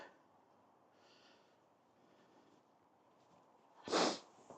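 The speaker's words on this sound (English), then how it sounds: "Sniffle." A single short sniff or snort breaks through quiet background hiss, close and sudden.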